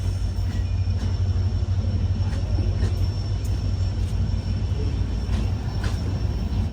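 Donyi Polo Express, hauled by a locomotive with LHB coaches, pulling out of Diphu station: a steady, loud low rumble of wheels and carriages rolling on the rails, continuous throughout, with faint squeals and clanks.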